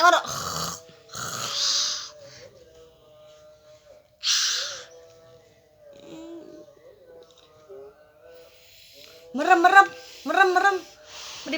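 A small child imitates a father's snoring with snorting, breathy vocal bursts. The bursts come in separated clusters, with adult voices talking softly in between.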